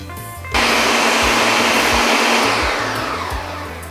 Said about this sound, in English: you're going to want to blend that and get it all combined